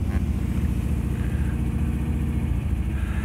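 An MG B GT V8 engine runs close by, a steady deep burbling rumble that holds an even throb for the whole stretch.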